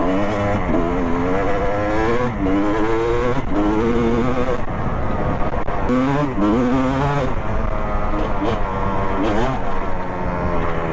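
Kawasaki KX 250 dirt bike ridden through woods, its engine revving up and down continuously in loud, close rising and falling sweeps with no break.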